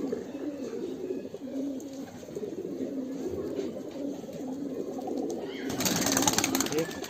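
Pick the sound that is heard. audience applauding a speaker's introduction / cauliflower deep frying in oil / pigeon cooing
pigeon cooing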